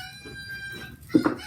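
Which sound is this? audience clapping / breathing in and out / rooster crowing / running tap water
rooster crowing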